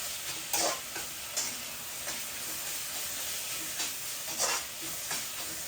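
Soft sizzling of pork curry in a frying pan with a few scraping stirs, quiet and close, no talking.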